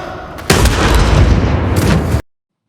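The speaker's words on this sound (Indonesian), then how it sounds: "Shin tiba-tiba bangun dan langsung menembak Choi" A loud, sharp gunshot blast from a gangster film booms after a short quiet lead-in, its heavy rumbling tail sustaining for over a second before cutting to silence.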